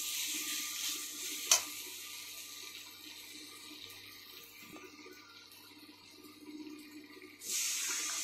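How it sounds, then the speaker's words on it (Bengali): Hot water poured into a pan of potatoes and masala, a quiet watery hiss that swells into a louder rushing pour near the end, with no one speaking. "উষ্ণ গরম জল, উষ্ণ মানে উষ্ণর থেকে একটু বেশি গরম জল দিয়ে দিলাম।"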